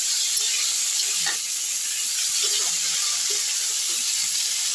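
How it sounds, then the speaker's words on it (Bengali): Potato and pointed gourd pieces fry in oil in a pan, giving a loud, steady, close hiss and sizzle with a few faint stirring clicks and no speech. "আমি আলু পটলটা আরেকটু কিছুক্ষণ ভাজতে ছেড়ে দিচ্ছি"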